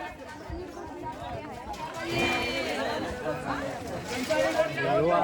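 A busy crowd at the Achra weekly market, stocked with Ganesh festival goods and vegetables, keeps up a steady hubbub of overlapping chatter with footsteps and bustle. A nearby voice talks over it, growing slightly louder partway through.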